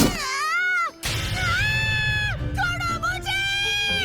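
In a Hindi-dubbed Junji Ito horror animation, a voice imitates a cat with several drawn-out, wavering meows and wails. Short gaps separate the cries, which sound loud and close, like caterwauling screams.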